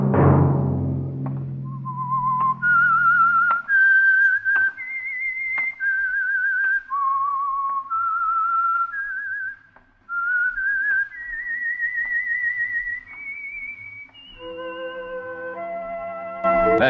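A lone whistler carries the slow, clear melodic theme of the 1948 radio show The Whistler for about seventeen seconds, each note held and bending smoothly between pitches, beginning over a short low rumble and ending with a brief chord-like tone.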